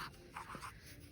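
A marker or chalk squeaks across a classroom board in several short strokes, close and fairly quiet, with no talking.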